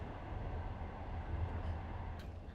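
Inside a Korean express train while riding: a low, steady rumble of wheels and carriage, faint and continuous, with no talk.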